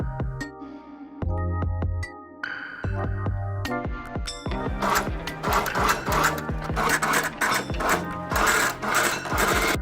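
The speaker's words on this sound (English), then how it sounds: "Sew 3 cm wide bias to it." A sewing machine stitches 3 cm wide bias binding onto a cut sleeve opening of a vintage ruffle dress, running in several short bursts with brief pauses, then a longer continuous run with rapid rhythmic needle clatter, close and fairly loud.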